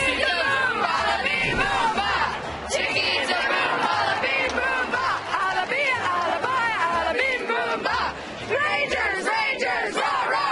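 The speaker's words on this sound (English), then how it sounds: "you guys also have a quick song, right? Yeah, we have a cheer" A group of students loudly shouts a team cheer together, a sustained burst of crowd voices lasting about ten seconds with little pause.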